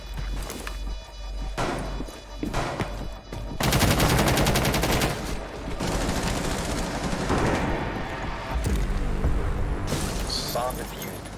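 Rainbow Six Siege gameplay gunfire, with rapid shots and bursts that come and go across the stretch, some loud and close, while players talk over them.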